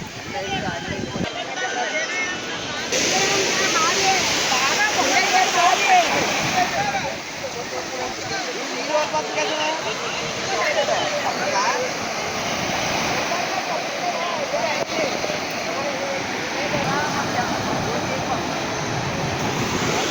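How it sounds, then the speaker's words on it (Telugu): Sea waves roll onto Mangamaripeta beach on a misty, foggy day, making a continuous broadband wash of surf that stays fairly steady and loud throughout. "కొంచెం వేవ్స్ ఉన్నాయి"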